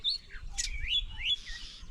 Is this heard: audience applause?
no